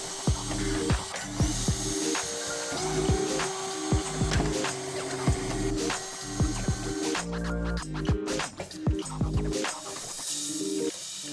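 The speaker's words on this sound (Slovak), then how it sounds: "Vyskrutkujeme skrutky a odoberieme ventilátory aj z druhej strany." Screws are backed out of the fan covers on a cryptocurrency mining rig, giving repeated ratcheting clicks and short whirring bursts from a screwdriver, close and fairly loud, alongside a steady background hum.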